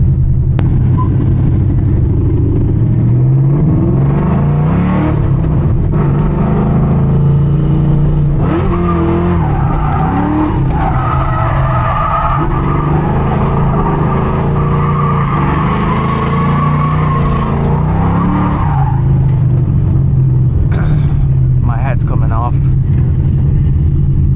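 A New Edge Ford Mustang drift car revs hard and skids through street drifts into a warehouse, its engine roaring and tires squealing loudly in long slides, heard from inside the car while the driver talks over it.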